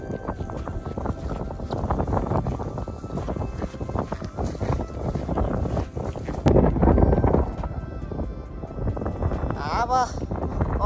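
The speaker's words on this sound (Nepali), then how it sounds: "त्यहाँ चाहिँ एकदमै बेग्ले हावा चल्दो रहेछ।" Strong wind roars across a high Nepali mountain ridge, a steady loud buffeting rush against the microphone that swells into a heavier gust partway through.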